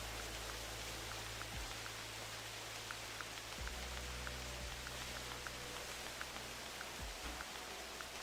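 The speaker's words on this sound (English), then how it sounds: "Freaking rain is so loud." Heavy rain falls in the hunting game theHunter Classic, a dense, steady hiss of drops with scattered sharper patters and faint low rumbles underneath, fairly quiet overall and with no talk.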